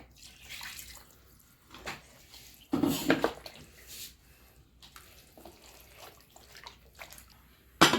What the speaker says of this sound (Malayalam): മിക്സിയുടെ ജാറിലേക്ക് കുറച്ച് വെള്ളം ഒഴിച്ചിട്ട് അതും കൂടെ ഒന്ന് കഴുകി ഒഴിക്കുന്നുണ്ടേ